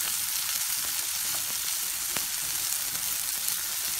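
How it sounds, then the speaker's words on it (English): Onions frying in a pan for besan ki sabzi, a steady close sizzle running unbroken with faint crackles throughout, no voices. "And fry the onion till they turn little pinkish"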